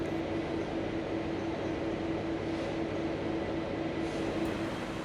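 A V/Line regional train, its engines fitted with upgraded traction motors, produces a steady loud rumble with a constant tonal whine, unbroken and with no one talking.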